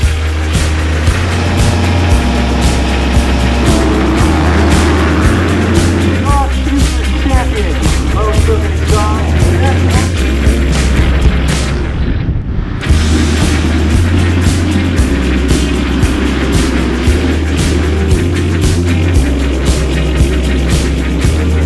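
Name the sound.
race-prepped motocross bike with Brembo hydraulic clutch riding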